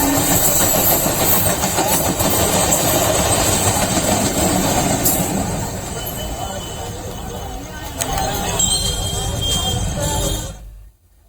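A train rolls through the Rahatgarh bus stand railway level crossing in Moti Nagar with a loud, continuous rumbling and hissing roar that eases off toward the end, while a voice talks over it throughout.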